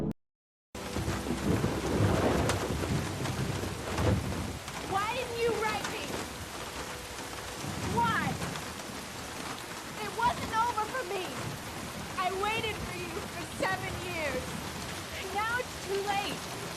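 Heavy rain pours steadily on surfaces in a film scene while thunder rumbles, with a big low crash early and another roll later, and faint voices in between.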